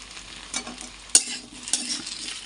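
Unboiled taro and potato fry together in a pan, a soft, steady sizzle with scraping stirs and a couple of sharper bursts close by, no voices.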